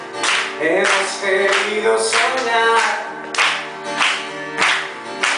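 Concert audience clapping along in a steady rhythm under a singer and band performing, the claps loud and regular between sung phrases.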